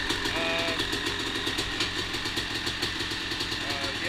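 A 2004 Honda CR250 two-stroke motorcycle engine idling as it warms up, a steady rapid burble up close, with a voice talking over it.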